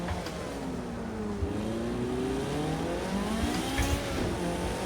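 Ferrari F40 engine in Project Cars 2 at Les Essarts, revving hard through gear changes with rising and falling whine, loud and close throughout, tyres briefly scrabbling, no talk.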